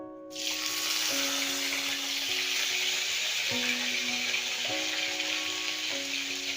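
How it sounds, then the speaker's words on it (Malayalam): Curry leaves drop into hot oil in a pan for a squid curry and set off a sudden, loud, steady sizzle that fills the whole stretch. A faint tonal melody plays in the background. "എണ്ണ ചൂടായി. ഇതിലോട്ട് നമുക്ക് കുറച്ച് കറിവേപ്പില ഇടാം."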